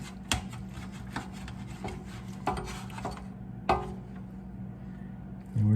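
Knife slicing through a smoked brisket on a cutting board, with a few sharp taps and scrapes of the blade against the board over a steady low background hum; a louder knock near the end.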